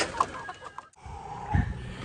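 Chickens cluck softly and intermittently at a moderate distance, with a brief lull midway before more low clucking and rustling.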